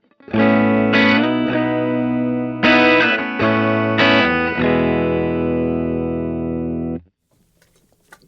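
Electric guitar played dry through a pedalboard, loud sustained chords with a few brief re-strikes, ringing steadily for several seconds before stopping into near silence.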